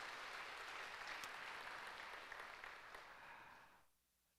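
A church congregation at a Sunday afternoon service applauds the elders and deaconesses with steady, even clapping that tapers off and ends near the finish.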